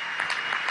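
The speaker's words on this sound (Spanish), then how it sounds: "Un gran aplauso a estos niños," Crowd applauds children at a Venezuelan government housing handover event, a brief burst of continuous, full clapping from many hands with no talking over it.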